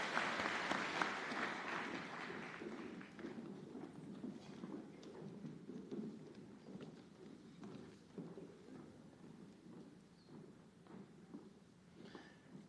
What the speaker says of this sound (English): Another round of applause for this group as they exit the stage.